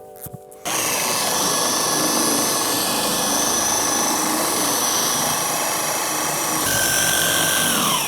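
An electric polishing machine buffs scratched and swirled car paint, a loud continuous whirring drone with a faint tonal whine, starting abruptly after a short quieter moment and running steadily throughout.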